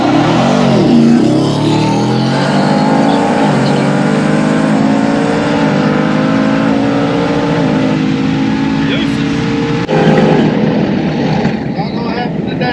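A Chevrolet C8 Corvette launches hard in a drag race, a loud engine note climbing steadily in pitch through the gears for several seconds, with a voice over the roar near the start.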